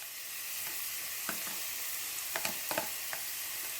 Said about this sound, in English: I'm going to saute my seasonings in the bacon grease